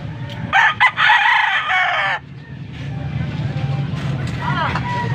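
A young gamecock crows loudly at a Pampanga market, one long harsh crow up close over a noisy crowd of voices and traffic hum, with fainter clucking and bird calls further off.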